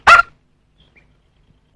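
A single sharp, loud dog bark up close, followed by near silence and the brief start of another sound at the very end.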